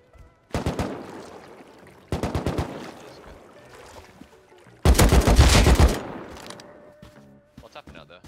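Gunfire in the Rust survival video game: three bursts of rapid shots, the last and loudest a dense sustained volley, separated by quieter gaps, with faint sounds trailing at the end.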